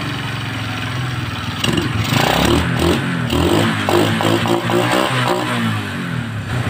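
A motorcycle engine runs close by after a CDI ignition test, a loud, steady putter with rhythmic firing pulses and slight rises in revs.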